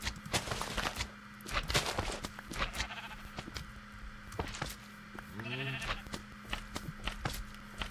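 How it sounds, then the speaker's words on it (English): Sheep in the video game Minecraft bleat several times, close and clear, with one prominent bleat near the end amid scattered clicks and footsteps; no talking. "There's a bunch of sheep out here."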